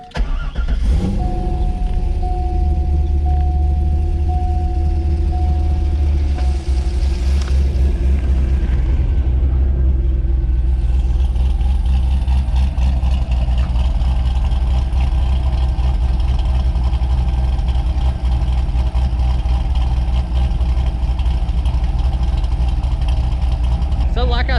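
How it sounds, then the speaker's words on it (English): A C5 Corvette V8 with an aftermarket cam, X-pipe and factory Z06 mufflers starts, then settles into a loud, steady, deep idle rumble close by, with a person talking over it. "So it actually sounds not exactly stock, but stock-ish."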